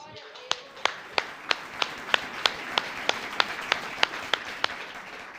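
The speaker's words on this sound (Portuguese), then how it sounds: "Uma salva de palmas ao Espírito Santo que habita em nós." A church congregation claps in a steady, evenly spaced rhythm during a service, with about fifteen sharp, distinct claps at a regular beat over a soft background wash.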